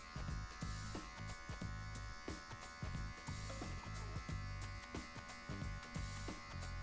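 An electric hair clipper buzzes continuously while giving a buzz cut, with repeated short strokes and scraping passes as the blades run through the hair, close and clear.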